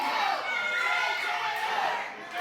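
Wrestling arena crowd roaring and cheering steadily throughout, a dense, loud wash of many voices with children's shouts mixed in.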